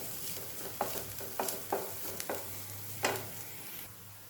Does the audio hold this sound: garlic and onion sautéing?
yes